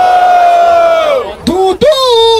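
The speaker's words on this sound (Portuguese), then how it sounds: "Barulho para cima do Refel" A battle rap event crowd erupting in loud cheers, whoops and yells after a drawn-out shouted call, the noise surging in sharp bursts close to the listener.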